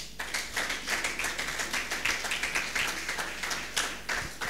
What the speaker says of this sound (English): Clap to God.